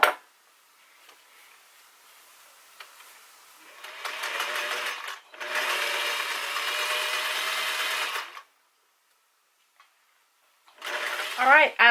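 Sewing machine stitching fabric for a handmade gift, running in a few sustained bursts of steady whirring and needle clatter with quiet gaps between, close by, with a voice heard briefly.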